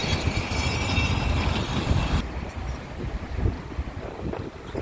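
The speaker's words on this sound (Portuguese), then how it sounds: "O vento ali pegando com força as bandeiras do Boulevard Laçador." Strong wind blowing flags along a boulevard in Porto Alegre, a loud continuous rushing buffet with gusts, heavy wind noise on the microphone.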